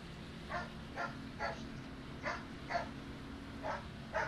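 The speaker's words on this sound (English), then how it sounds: "We got dogs barking." Dogs bark in an irregular series of sharp, moderately close yaps over a steady background hum, around a NASCAR race at Michigan.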